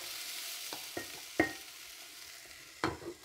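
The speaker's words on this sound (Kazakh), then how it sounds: "Жиі араластырып тұрып, 3 минуттай қуырамыз" Sweet bell pepper fries over high heat in a pan, a quiet steady sizzle broken by a few sharp scrapes and clinks as it is stirred.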